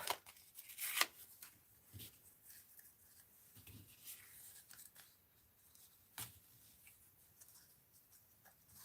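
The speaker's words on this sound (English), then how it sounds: "And I always have to give this a snip." Scissors snip through paper during a stamp craft session, giving a few crisp, close cuts among light rustling and handling of materials, with no talk.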